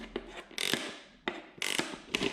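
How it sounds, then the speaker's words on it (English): A ratchet tightening the mounting bolts on a Memphis Shades Road Warrior motorcycle fairing, giving close, sharp bursts of rapid clicking in three quick strokes with short pauses between, and no talk. "So the next thing I'm going to do is go ahead and tighten down everything."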